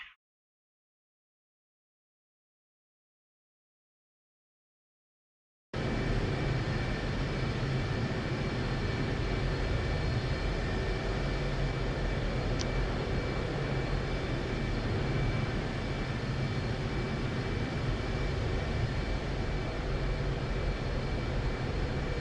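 F/A-18 jet engine roar in the DCS flight simulator during aerial refueling, a loud, steady, broadband drone that starts abruptly after a few seconds of silence and holds unbroken, with no talking.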